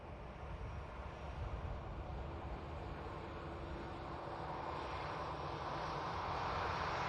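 A Lufthansa airliner landing at Manchester Airport gives a continuous broad engine roar heard from a distance, building gradually in loudness over several seconds with no talking.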